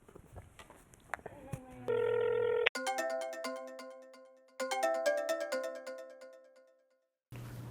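A phone's ringtone plays in bursts of bright, repeating electronic chimes, with a short tone and some background noise before it and a brief pause between ring phrases, loud and close.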